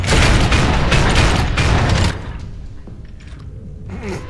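Rapid bursts of gunfire pour at Asura in the action game Asura's Wrath, a loud dense volley for about two seconds before dropping to quieter mechanical clanks and rumble.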